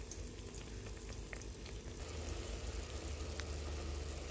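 Sausage chutney cooking in a pan, a continuous close sizzle and gentle bubbling that runs steadily throughout with a few small crackles on top.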